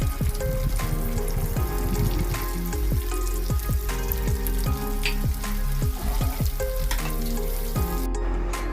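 Chopped onions and garlic sizzle and fry loudly in a pan, with steady crackling and repeated stirring scrapes throughout, close up and with no talk.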